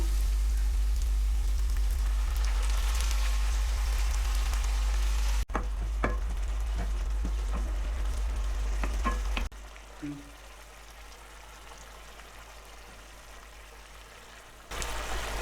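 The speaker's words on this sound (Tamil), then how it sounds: "தக்காளி வாசனை போகிறது வரையும் நல்லா வதக்கிக்குங்க." Ground paste of five tomatoes and two chillies sizzles steadily in a pan for an egg gravy, a dense, close frying hiss that softens partway through and continues more quietly to the end.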